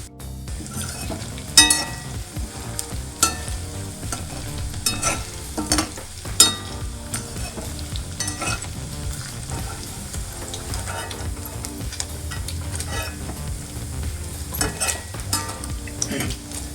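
Paneer cubes deep frying in hot ghee for a paneer ghee roast, a steady close bubbling sizzle with occasional clinks and scrapes of a utensil against the pan throughout.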